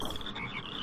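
Frog-weapon croaking in the artillery game Shellshock Live: a steady, dense chorus of croaks with a bright ringing tone running through it, loud and continuous without a pause.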